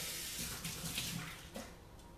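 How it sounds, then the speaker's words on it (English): Warm water, around 40 degrees Celsius, rinsing chocolate cake batter from a mixing bowl at a sink; a faint, steady running-water wash with slight splashy variations throughout. "And then I just give it a quick rinse."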